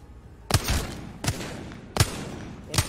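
Gunfire in Apex Legends, four punchy shots spaced roughly three-quarters of a second apart, each a sharp close crack with a brief rumbling tail, alone without talk.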